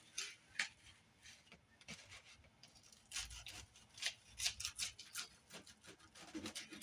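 A knife saws through a crispy sloppy joe roll, giving faint, close crunchy scraping strokes in uneven bursts that grow busier partway through, against a quiet background.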